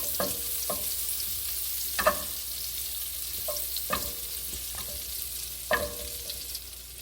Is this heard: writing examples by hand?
no